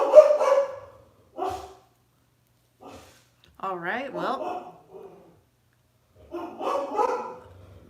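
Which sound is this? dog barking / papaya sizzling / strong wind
dog barking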